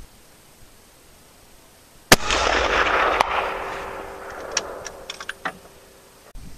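A 1903 rifle with a peep sight firing a Hornady 150 grain FMJ round outdoors at 300 yards: one sharp, loud shot followed by a long rolling echo that fades, with a few faint clicks and handling noises afterward.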